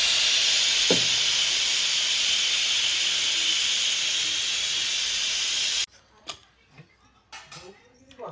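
A pressure cooker whistles while cooking potato pulao, a loud, steady hiss of steam that lasts several seconds and then cuts off abruptly, leaving faint kitchen sounds and brief, quiet voices.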